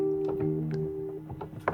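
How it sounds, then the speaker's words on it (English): Old Wurlitzer 145 tube electric piano playing sustained chords with a few single notes, its aging tubes adding noise in the background; mellow, moderately quiet tones with soft attacks and a brief brighter hit near the end. "This is an old Wurlitzer 145."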